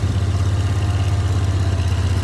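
A ride-on lawn mower engine runs steadily after the choke is lifted, a loud close low throbbing hum with an even pulsing beat and no voices.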